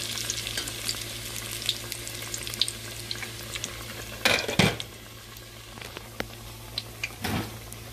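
Hot Cheeto-coated Korean corn dogs fry in hot oil with a steady, close sizzle, broken by a few sharp clinks and scrapes of a utensil against the pan.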